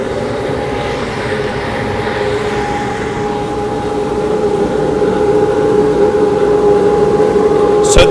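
A coffee roaster's exhaust fan pulling air across the bean cooling tray gives a loud, steady whooshing roar with a constant tonal whine, building slightly in strength, close up and without pauses.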